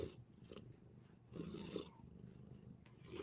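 A small young cat napping in a basket purrs softly and close, a low rumbling texture with gentle swells in a quiet room.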